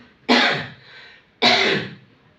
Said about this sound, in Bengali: কাশি দেন, জোরে কাশি দেন।